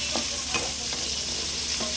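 Garlic, onion and chili sauté together in a hot pan with a steady, close sizzle, broken by a few distinct stirring scrapes of a utensil.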